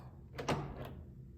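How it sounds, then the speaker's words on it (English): An emergency key turns in the driver's door lock of a Kia K5 to unlock it, giving a couple of short, close mechanical clicks and a muted clunk in a quiet setting. "take our emergency key, put it in there, and we're gonna turn it to the left or counterclockwise to unlock"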